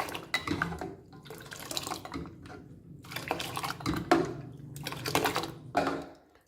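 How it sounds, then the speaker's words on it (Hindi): Cold water poured into Kashmiri pink tea in a kitchen pot, giving splashy, sloshing pours in several bursts with faint clinks of utensils, fairly close and without talk. "ठंडा पानी डालने के बाद हमने इसको अब अच्छे तरीके से फेंट लिया है।"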